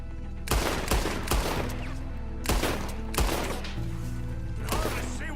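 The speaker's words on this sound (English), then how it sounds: "Can hardly see what I'm shooting at." A loud, close burst of gunfire from the Western video game Red Dead Redemption: about six sharp shots at irregular intervals over a steady low background rumble.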